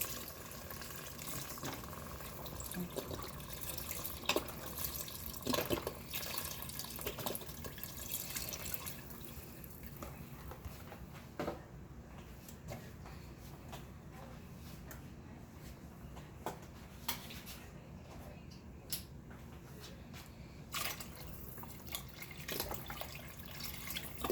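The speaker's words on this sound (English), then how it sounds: "Now I'm going to add in my beef broth." Beef broth poured into a soup pot for vegetable beef soup, a steady liquid trickle and splash running continuously for about twenty-four seconds at moderate, close range with no talking.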